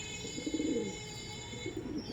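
Madrasi pigeons coo softly in low, rolling bursts against a faint steady background hum.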